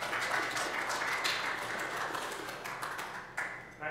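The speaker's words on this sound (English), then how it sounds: "Please give Chris a round of applause." Audience clapping for a speaker at a security conference, a steady wash of many hands that carries on across the whole stretch with a few louder spikes near the end.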